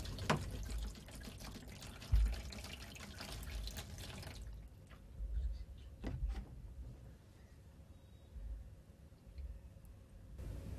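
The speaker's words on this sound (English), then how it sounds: "Now pour cold water over the bottle and watch it get crushed." Cold water is poured over a tightly capped bottle, giving a steady splashing stream for several seconds that stops, followed by quieter drips and small knocks. The sound is close and there is no talk.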